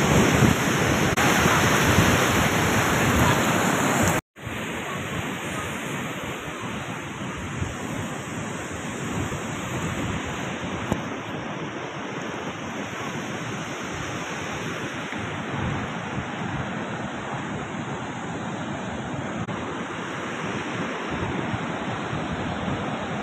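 Sea waves at Ganpatipule beach in Ratnagiri roar as a dense, steady wash of surf, with a brief dropout early on and a constant breezy rush throughout, no voices.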